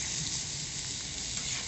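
Potatoes and meat frying together in a homemade saj pan over a wood fire, a soft steady sizzle with faint stirring, quiet and even for a short stretch, no talking.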